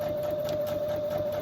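A sewing machine runs steadily, stitching a journal insert made from book pages and scraps with a continuous motor whir and steady mechanical hum, close and unbroken, with no speech.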